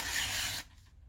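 A freshly sharpened knife rasps steadily through thin glossy catalogue paper for about half a second, a close, bright scraping sound that stops abruptly.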